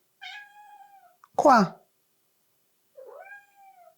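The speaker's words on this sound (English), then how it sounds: "Stop meowing. You French cat." A cat in France meows near and clear, a drawn-out cry, then after a short spoken word another rising meow, in an otherwise quiet indoor space.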